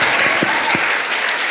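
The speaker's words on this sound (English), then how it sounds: "Please cheer them up with a big round of applause." An audience applauds at an awards ceremony for board-exam toppers at Hira Institutions, a dense, steady patter of many hands clapping that fills the whole short stretch at even volume.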